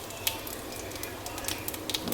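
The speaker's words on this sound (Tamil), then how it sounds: "இதில் சோம்பு, வெந்தயம் போட போகிறேன். இது நல்லா பொரிக்கணும்." Fennel seeds and fenugreek sizzle in hot oil in a pan as a curry base starts, giving a soft, steady frying hiss with small pops.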